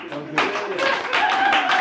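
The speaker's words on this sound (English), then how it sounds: "An applause break. Use that in post, that applause." Applause break from a comedy club audience, broad clapping that swells abruptly and holds steady and loud, with voices mixed in.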